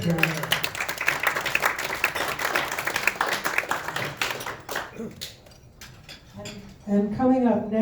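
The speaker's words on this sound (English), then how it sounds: "let's give Ron just another big round of applause" An audience at a talk breaks into a loud round of applause, dense clapping that carries on for several seconds and then fades, with a voice speaking over the tail end.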